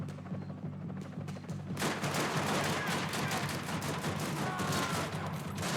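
Heavy gunfire in a Max Payne 3 firefight, starting quietly with faint shots, then erupting at about two seconds into a sustained, dense roar of rapid shots that continues to the end.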